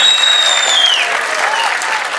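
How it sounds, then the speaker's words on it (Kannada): Steady audience clapping at a film title launch event fills the space from start to finish, dense and even, with a faint whistle or tone sliding down early on. "ಜೋರ್ ಚಪ್ಪಾಳೆ ಬರಬೇಕು ನಮ್ಮ ರಘುಗೋಸ್ಕರ"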